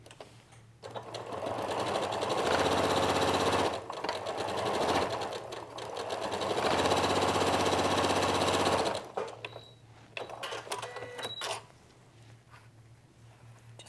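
A sewing machine stitching a fabric coaster made from scraps, running in two long steady bursts of rapid mechanical chatter with a pause between, then quieter handling noises and short stops.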